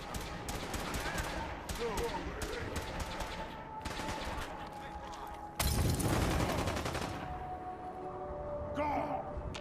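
Rapid gunfire from a Fallout 4 firefight crackles in bursts through the clip, swelling into a loud, dense barrage midway, with several voices shouting and talking over the shooting.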